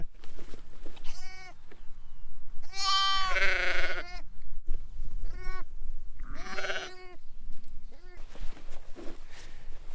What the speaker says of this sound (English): oh, there's some more lambs here.